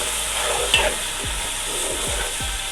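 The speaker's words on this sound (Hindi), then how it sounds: "अब मैं इसमें अदरक लहसुन का पेस्ट ऐड करती हूँ" Ginger garlic paste stirred and fried in a pan for mutton pulao, a steady soft sizzle with repeated spoon scrapes spaced through the clip.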